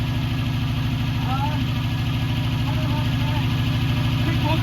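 A car engine idles and revs steadily after a rear muffler repair, a loud continuous rumble with a regular low pulsing throughout, close to the microphone.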